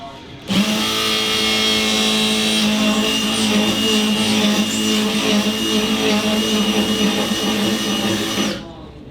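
A Milwaukee Matrix Carbide ShockWave bit in an impact driver runs a screw home in one continuous loud whining, rattling burst of about eight seconds, starting and stopping abruptly.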